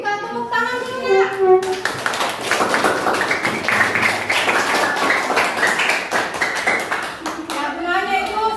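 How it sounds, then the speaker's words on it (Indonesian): A classroom of students claps together for about five seconds during a teaching session, with speech just before and after the steady burst of clapping. "Kita tepuk tangan dulu ya."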